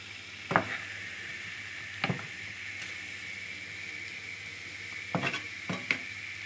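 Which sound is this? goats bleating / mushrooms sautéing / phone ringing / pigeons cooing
mushrooms sautéing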